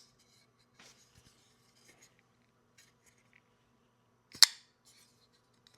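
A Kubey folding knife blade is thumb-flicked open close to the microphone, a single sharp metallic snap amid faint handling clicks in an otherwise quiet room.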